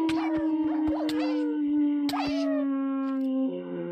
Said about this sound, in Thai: หอนนานมากเลยค่ะ